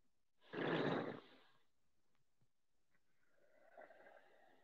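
A long deep exhale during a guided breathing exercise, one soft breathy rush that fades out, followed by a quieter airy breath, faint and close with no talking.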